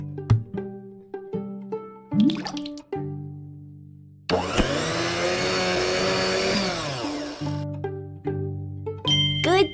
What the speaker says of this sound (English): Put 3 pieces of cherry into the blender.